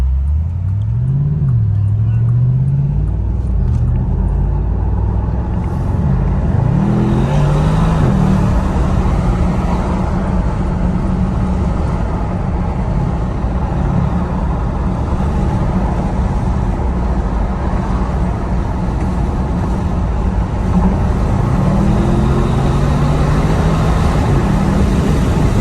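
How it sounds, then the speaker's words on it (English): A 2024 Bentley Continental GT engine drones loudly throughout, its pitch rising and falling as it revs and shifts, with a heavy low exhaust rumble and road noise. "I hope y'all can hear the exhaust a little bit."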